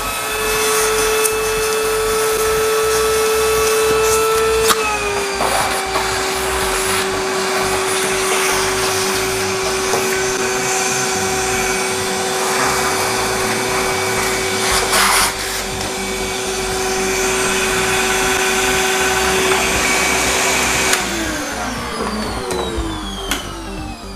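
Electric blower cleaning a Bitmain Z9 crypto miner, a loud close continuous motor whine and rushing air whose pitch shifts as the airflow changes, running throughout.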